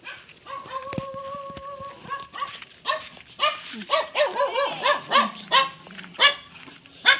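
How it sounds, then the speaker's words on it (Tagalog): Several dogs bark in repeated bursts, growing louder and more frequent toward the end, with some yips mixed in over a steady background hum. "Ito naman yung mga aso."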